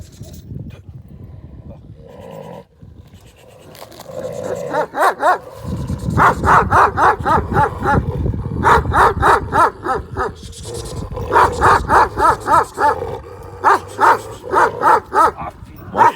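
A big Kangal dog barks loudly and repeatedly, in bursts of deep rhythmic barks, with quieter rumbling and movement before the barking starts.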